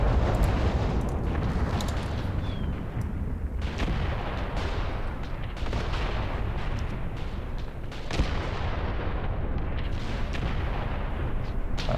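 Incendiary artillery shells land in a battle in the war game Graviteam Tactics, producing a dense, continuous roll of heavy booms and rumbling bursts that stays loud for the whole stretch.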